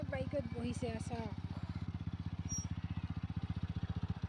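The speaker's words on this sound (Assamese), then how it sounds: "তো আমি এটা বাইকত এনেকৈ তিনিজনে যাম।" A motorcycle carrying three riders chugs nearby with a steady, rapid engine thud, while brief voices sound at the start.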